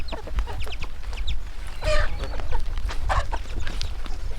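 Chickens at a rural forest homestead cluck in scattered short calls over steady outdoor background noise, with a couple of louder bursts standing out partway through.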